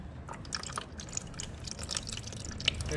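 Coolant runs out of a radiator drain bolt as a faint, steady trickle with scattered drips and splashes, heard alone and at low level.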